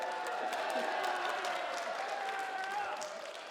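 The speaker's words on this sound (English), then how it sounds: "I didn't expect people to cheer" Wedding guests cheer and applaud during a best man's toast, a continuous wash of clapping with some vocal cheering underneath, moderately distant and tapering slightly toward the end.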